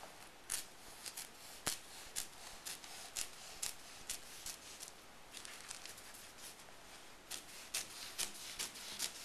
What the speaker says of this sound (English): So this is easy to cut with scissors.